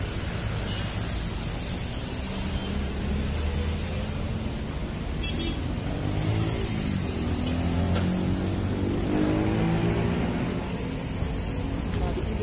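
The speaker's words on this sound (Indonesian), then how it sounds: "Ada kepadatan kendaraan karena traffic light ya kayak tadi ya." Steady, dense roar of congested road traffic waiting at a traffic light in Jatinegara, with engines idling and rumbling continuously at close range and no clear voices.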